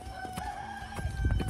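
Chickens on a snowy winter morning in their run, giving a few short clucks and calls close by over a low steady background.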